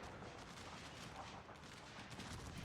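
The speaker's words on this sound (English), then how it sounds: "On this flank, the gunfight is still going on" Massed infantry rifle fire in a battle in Shogun 2: Fall of the Samurai (Belgium versus Saxony): a steady, dense crackle of many overlapping shots, fairly faint and distant, continuous for the whole stretch with no talk.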